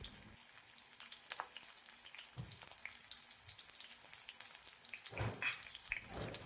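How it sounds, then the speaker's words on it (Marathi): Garlic and finely chopped green chili fry in hot oil over a low flame, giving a soft, steady sizzle with a couple of brief louder bursts of stirring and a faint watery background. "तेल गरम झाले की त्यामध्ये लसूण आणि बारीक चिरलेली हिरवी मिरची टाकून छान परतून घेऊ"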